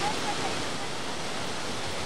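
A waterfall's spray roars at a train photo stop on the Oslo–Bergen railway, a loud, steady, even wash of noise that fills the whole moment without break.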